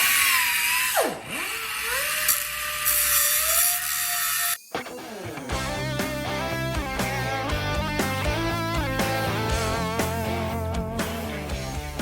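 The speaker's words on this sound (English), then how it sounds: "Yeah, so grind natin" An angle grinder bites into a link of a Yamaha R6 motorcycle chain. A short spin-up comes first, then after a brief pause a loud, sustained metallic grinding screech continues with a wavering pitch to the end.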